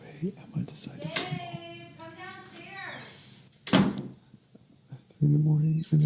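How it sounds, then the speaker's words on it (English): A door slams with a sharp, forceful bang in a house, standing out against quiet background sounds with brief indistinct voices and a low hum around it. "A door slams with immense force, seemingly in response to his hesitation."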